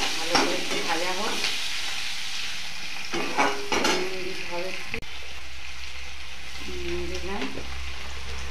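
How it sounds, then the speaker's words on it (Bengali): Fish sizzles in hot oil alongside garlic, ginger and onion, a steady broadband crackle with intermittent stirring scrapes and a voice speaking over it; a low hum enters partway through. "তাতে দেখো রসুন আছে, আদা আছে, পেঁয়াজ আছে, এগুলো মাছের সাথে ভাজবো।"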